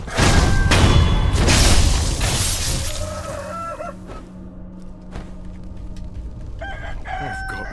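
Roosters crow loudly and repeatedly in Sekiro: Shadows Die Twice, several overlapping cock-a-doodle-doo calls over busy in-game clatter, then quieter clucking and another crow near the end.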